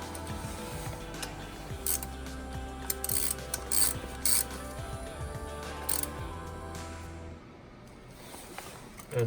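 A hand ratchet clicks in short bursts while a 10mm bolt is tightened down on a car's spark plug ignition coil. The pawl ticks sound close and moderately quiet, with steady background hum between them.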